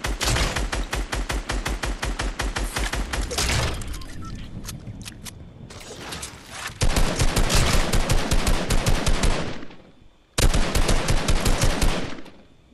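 Rapid video game gunfire, loud bursts of automatic shots in dense rhythmic volleys, pausing briefly midway and near the end before resuming.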